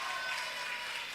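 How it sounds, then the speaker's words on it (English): Steady, fairly faint applause from a church audience at a dance competition, a diffuse wash of many hands clapping at some distance with no voices on top. "A big hand, a big round of applause for the participants for showing courage"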